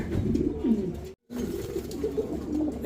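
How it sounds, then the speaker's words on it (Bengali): Two pairs of pigeons coo steadily inside a short cage at a pigeon seller's stall, the low throaty calls continuing nearly nonstop and close by, broken by one brief moment of silence. "এখানে 2 জোড়া কবুতর আছে"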